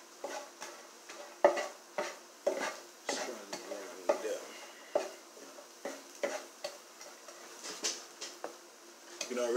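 Green and yellow onions cooking in a pan, stirred with a utensil in a steady rhythm of scrapes and clinks over a faint sizzle, close by and fairly quiet.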